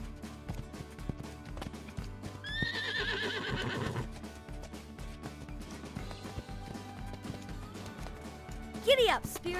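In a Spirit horse video game, a horse whinnies loudly over rhythmic galloping hoofbeats and game music, with a second sharp neigh near the end.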